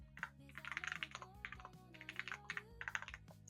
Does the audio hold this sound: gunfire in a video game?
no